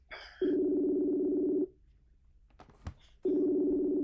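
Ringback tone of an outgoing phone call, two long steady buzzing rings separated by a pause with faint background noise, loud and close.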